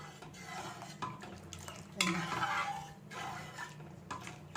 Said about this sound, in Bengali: এই ডাল ভাজা ডাল ডালটা নাড়িয়ে দেখাচ্ছি